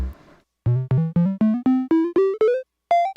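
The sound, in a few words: Eurorack modular synth envelope triggering VCA notes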